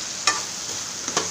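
Tomatoes fry in butter in a pan, giving a soft steady sizzle with two brief louder crackles or stirring scrapes.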